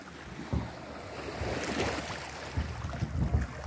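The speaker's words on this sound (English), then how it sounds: "These are little racing boats." Small racing boats on the water near a beach at Cebulan on a morning, with steady wind buffeting the microphone over washing surf and a few louder gusts and splashes.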